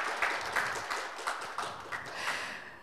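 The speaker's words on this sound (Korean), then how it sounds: "뜨거운 박수로 맞아주시기 바랍니다." Audience at an award ceremony for teachers welcomes guests with applause, a moderate and fairly sparse round of clapping with soft, uneven pulses that fades slightly toward the end.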